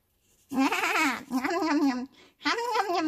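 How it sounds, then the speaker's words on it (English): A goat bleats loudly and close by in three drawn-out, wavering cries separated by short pauses. "Oh no, goat, don't you dare eat it."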